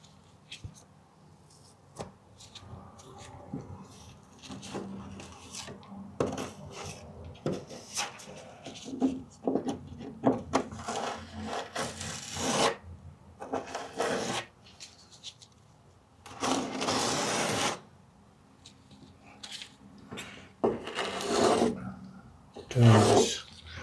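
Dried, hardened filler is sanded in irregular bursts of harsh, close rasping, with quieter gaps between strokes and a few louder scrubbing passes toward the end.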